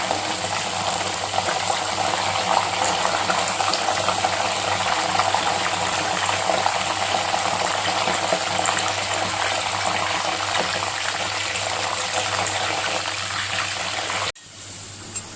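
Steady, dense crackling sizzle of salt water poured into hot oil frying wafers on high heat, loud and continuous with no talking, cutting off abruptly near the end.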